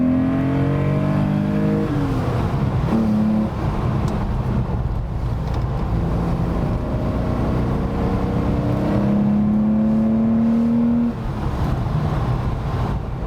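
Porsche 911 Rennsport Evo S restomod heard from an in-cabin microphone while driving on a demanding road: a loud, steady engine drone with rising and falling revs through gear changes, continuous for the whole stretch with no talking.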